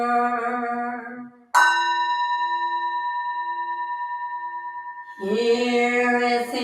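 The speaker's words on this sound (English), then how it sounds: "Here is the after sound of the bell." A Zen temple bell rings out once with a bright metallic strike, its tone holding and slowly fading as a long steady hum. Chanting voices are heard before the strike and again near the end.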